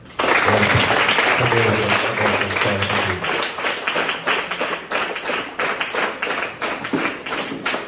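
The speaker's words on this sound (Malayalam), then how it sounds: "അപ്പൊ അദ്ദേഹത്തിന് നമുക്കൊരു ബിഗ് ക്ലാപ്പ് കൊടുക്കാം" A school audience at MIT School Eriyad's Constitution Day event gives a big round of applause for the speaker. The clapping is loud and dense, with a voice talking over it at first, then it thins into scattered, uneven claps.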